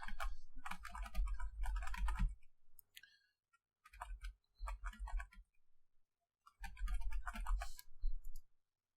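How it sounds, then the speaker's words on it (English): Rapid typing on a computer keyboard in several bursts, close and crisp, separated by brief pauses of silence. "Let me just sort of start typing things."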